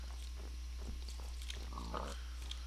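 Pigs in a video game give faint grunts and oinks over a steady low hum and other game sounds, with no speech.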